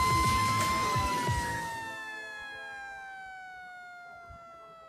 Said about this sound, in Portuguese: Ô, Domi, solta a sirene aí.